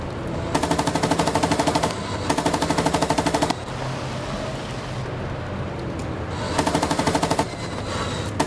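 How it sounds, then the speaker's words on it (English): Bursts of machine gun fire from a T-62 tank in the PC game Gunner Heat come in three rapid, evenly spaced volleys. They sound close and loud over a constant low engine rumble, with pauses between bursts. "Let's use our machine gun"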